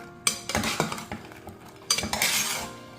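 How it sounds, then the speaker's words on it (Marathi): A spoon stirs fried sweets around in sugar syrup inside a metal pot, giving close, repeated clanks and scrapes in uneven bursts with a thick, wet stirring texture. No one talks. "असं मिक्स करायचं"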